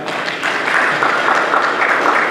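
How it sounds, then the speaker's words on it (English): Audience applause that comes up almost at once and holds as a dense, steady wash of clapping at full strength for the whole stretch, with no voices over it. "Please give him a good thanks and clap."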